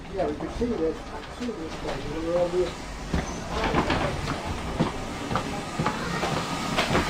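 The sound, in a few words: old urban multiple unit train carriage running, Didcot GWR museum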